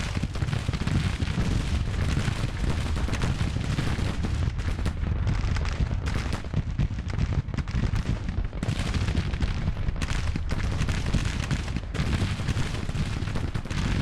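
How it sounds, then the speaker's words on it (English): Dense, continuous cannon and gunfire rumble from a Grand Tactician battle, with booming artillery and crackling volleys layered loudly together without pause. "A lot of cannons."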